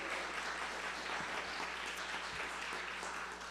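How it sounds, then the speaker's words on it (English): Church congregation applauding Nancy Kranz, co-chair, during a Unitarian Sunday service; a soft, steady patter of clapping held at an even level throughout, fairly distant and diffuse in the sanctuary. "So big round of applause again."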